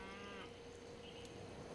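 A single cow moos briefly in the strategy game Civilization 5, a short, faint low call at the start, fading under quiet background ambience.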